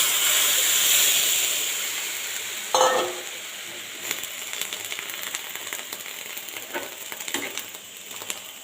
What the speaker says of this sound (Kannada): ಈಗ ಬೆಳ್ಳುಳ್ಳಿ ಎಲ್ಲ ರೋಸ್ಟ್ ಆಯಿತು